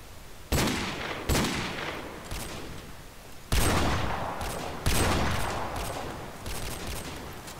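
Gunfire from the video game Modern Warfare Remastered: several loud, sharp shots fired in bursts of single cracks with echoing tails, close and alone without talk.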